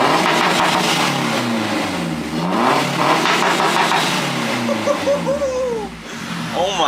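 Mazdaspeed 3 fitted with a Corksport downpipe revving hard, loud repeated engine sweeps rising and falling in pitch, heard close and continuous with brief speech near the end.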